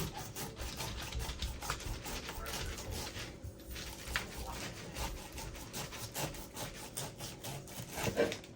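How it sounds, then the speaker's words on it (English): A knife sawing through the tough top of a pineapple, a continuous rough rasping scrape in rapid strokes, close but fairly soft. "what we're going to do is just cut the head right off"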